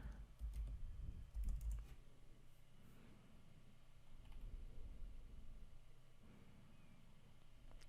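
Faint, quick keystrokes patter on a computer keyboard as a password is typed during a Python install on Ubuntu, soft clicks over a low background hiss, with a slightly louder cluster early on.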